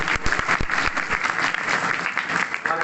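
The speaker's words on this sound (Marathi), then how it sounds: "या कलाकारांसाठी सगळ्यांसाठी टाळ्या वाजवा." An audience applauds the singers and musicians after a kirtan performance on episodes from Shivaji's life, a dense burst of clapping at moderate distance that stays steady for the whole stretch.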